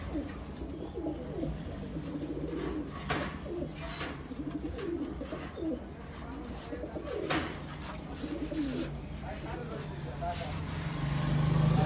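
Silver Gorra high-flying pigeons coo softly in a loft, repeated low calls under someone talking, with faint passing traffic in the background.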